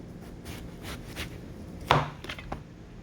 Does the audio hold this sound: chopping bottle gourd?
yes